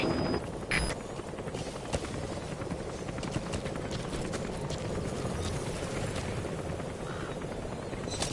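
The Pequot helicopter approaching a landing zone in Metal Gear Solid 5, a steady rhythmic rotor chop pulsing under a dense, moderately loud wash of engine and wind noise, with no talk.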